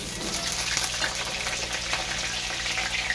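Potato chunks fry in a pan with bay leaf and five-spice tempering, producing a continuous moderate sizzle with light stirring and scraping textures throughout.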